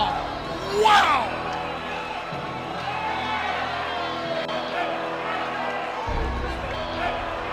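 Crowd at a boxing match roaring and cheering right after a knockout uppercut, with a loud burst of shouts early on, then a sustained noisy arena din with ringside commentators' voices talking over it.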